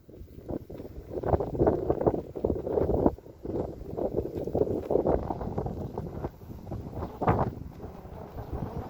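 Gusting wind buffets the microphone outdoors during a windy-day RC plane flight, a steady rough roar with louder surges throughout, no voices.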